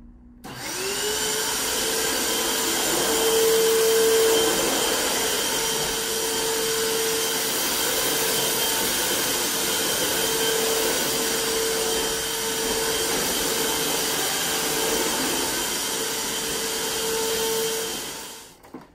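A Hoover Windtunnel Max bagged vacuum cleaner runs continuously for about eighteen seconds, a loud, steady motor whine with a constant droning tone and airflow rush, close by and with no speech.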